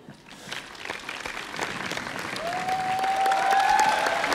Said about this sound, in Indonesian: Oh, nunggu tepuk tangan.